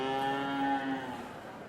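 Cattle mooing at a 2019 beef show, one long, loud, sustained moo that fades out near the end, heard alone with no talk.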